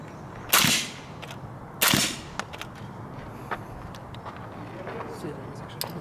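Two loud, sharp reports from a suppressed SIG MCX LVAW piston rifle in 300 Blackout fire about a second apart at an outdoor range, followed by faint clicks and handling noise.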